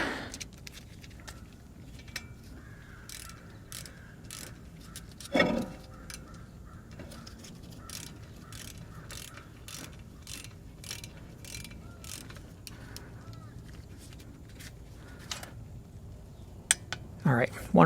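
A ratchet tightens a wheel hub bolt on a GM 4WD SUV (Chevrolet Avalanche) front hub to 106 inch-pounds, giving a long run of regular close clicks with a few louder clanks near the end.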